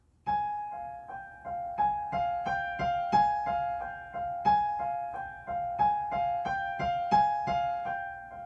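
Solo piano plays four measures of a piece from Pride and Prejudice, a steady stream of repeated broken-chord notes with a clear sustained melody line, close and clean with no talking.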